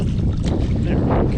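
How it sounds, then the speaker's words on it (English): Wind gusting across a lake during late-fall smallmouth bass fishing from a boat, a loud continuous rumbling roar buffeting the microphone with no break. "Wind is starting to pick up a bit too."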